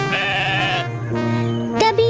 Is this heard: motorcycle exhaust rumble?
no